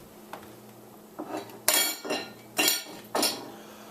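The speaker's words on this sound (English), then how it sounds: "You see I'm stacking the plates right next to each other." Plates and silverware clink and clatter in several sharp bursts, close by, while being stacked into a dishwasher, with no talking.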